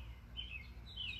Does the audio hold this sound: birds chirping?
yes